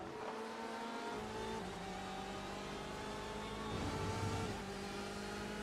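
A BMW race car in a racing game at Homestead, Miami, holds a steady high-pitched engine whine with shifting tones, and another car's engine briefly swells past midway, all continuous without speech.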